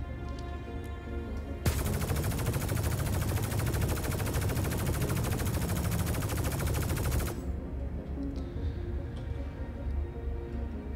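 A Cutlass Steel ship gun in a space game fires one long, steady, loud burst of rapid automatic shots lasting several seconds, then cuts off abruptly, with no talk over it.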